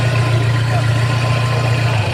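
A car's air conditioning compressor runs with the engine idling, a steady low hum and drone heard close up and alone, without pauses or changes in pitch.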